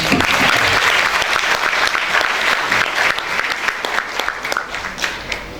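A large audience at a school awards event claps loudly after a singing performance, the dense applause strong at first and gradually thinning toward the end.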